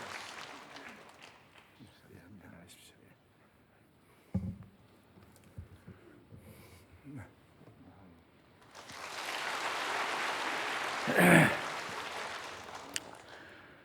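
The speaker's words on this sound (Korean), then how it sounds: "박수로 환영하겠습니다" Applause breaks out in a church to welcome a speaker to the front, a dense wash of clapping that swells and holds for several seconds after quieter murmuring and stray noises.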